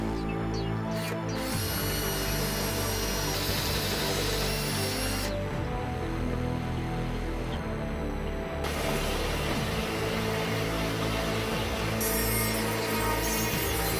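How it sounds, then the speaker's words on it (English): A power drill with a step drill bit whines and grinds through a resin skull's eye socket, its pitch shifting in several stages as the bit bites deeper, loud and close. "the first thing I can do is to drill a hole into the eye socket here."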